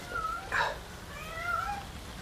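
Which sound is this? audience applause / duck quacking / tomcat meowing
tomcat meowing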